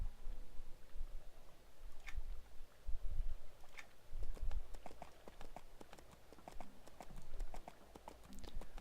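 Horse hooves clip-clop steadily in the video game EverQuest II, a close, moderately loud rhythmic trot over a low rumbling background.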